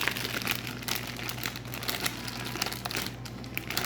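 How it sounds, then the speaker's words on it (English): An old, very stiff piping bag with a heavy seam crinkles and rustles as it is handled while being filled with buttercream, a busy close crackling that runs throughout with no talk. "Then you put it into your piping bag."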